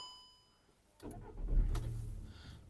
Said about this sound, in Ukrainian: Давайте запустимо двигун.